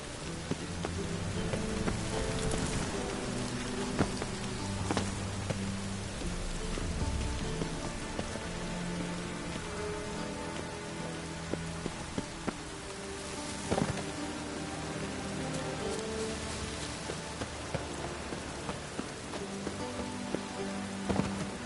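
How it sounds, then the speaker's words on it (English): Steady rain from The Witcher 3: Wild Hunt fills the scene, a dense continuous patter on surfaces with a few louder drops and low rumbles of distant thunder, no voices. "I like rain. Keeps the rogues indoors."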